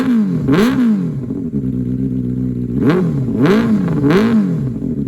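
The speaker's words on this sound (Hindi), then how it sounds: "चलो पहले से एग्जॉस्ट सुनाई देते हैं।" Superbike exhaust revved hard three times, each blip a loud close rising snarl that drops back to a rumbling idle between pulls.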